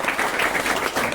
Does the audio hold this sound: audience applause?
yes